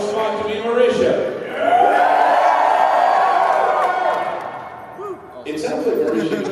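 A convention panel audience at Magfest cheers and whoops loudly for a vote, a swelling crowd roar that holds for a few seconds and then fades, with a speaking voice before and after.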